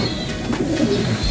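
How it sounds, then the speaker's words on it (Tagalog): Pigeons cooing as they begin coming out of their loft, soft low throaty coos repeating close by over a steady background, with no speech. "so far lahat naman ng ibon natin ngayon nag-uumpisa na silang maglabasan"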